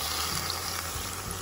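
Water poured into a cooking pot holding crab and salt while making aprapransa, a steady, close rushing splash lasting about a second and a half with no talk.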